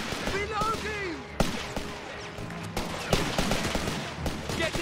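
Gunfire from the video game Company of Heroes 3: repeated sharp shots and bursts scattered throughout, with voices talking over the battle.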